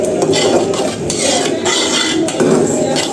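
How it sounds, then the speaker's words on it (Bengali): A metal lid clatters onto a cooking pot of semolina khichuri on a gas stove, with steady close metallic scraping and clinking of pot and utensils running throughout, loud and busy with no voices. "এখন গ্যাসটা বন্ধ করে একটু চাপা দিয়ে রাখবো ঢাকনা দিয়ে"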